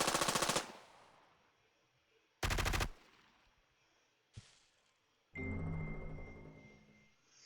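Gunfire in a war strategy video game: two sharp automatic bursts, a single distant shot, then a longer rumbling volley, each loud and separated by gaps, with no speech.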